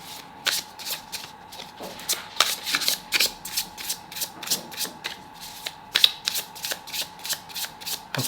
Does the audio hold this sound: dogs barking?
no